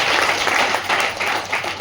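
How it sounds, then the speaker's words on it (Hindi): A crowd at a Vestige business seminar session in Bhopal claps together, a dense, steady patter of many hands that fills the whole stretch at moderate loudness with no voices over it. "ताली तो बजा दो"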